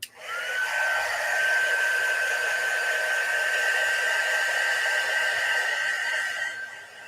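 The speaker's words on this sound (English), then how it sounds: "I'm going to hit this real quick to lay it down with the heat tool" A loud, steady blowing whir with a high whine runs for several seconds from a heat embossing tool, then cuts off.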